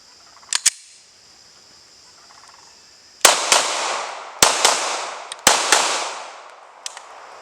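Glock pistol fired during a magazine reliability test with Gen 5 17-round mags: two quick distant pops, a pause, then four loud sharp shots spaced about a second apart, each ringing out with echo.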